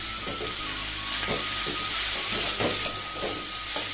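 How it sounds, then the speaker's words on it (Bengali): Potatoes, carrots and spring onion stalks fry in a pan over a tempering of dried red chilli and whole cumin. A steady, close sizzle runs throughout, with soft stirring clicks and scrapes. "এখানে আমি একটু শুকনো লঙ্কা আর একটু গোটা জিরা ফোড়ন দিয়ে আর কি পেঁয়াজের কলি আলু গাজর ভাজাটা বসিয়ে দিয়েছি"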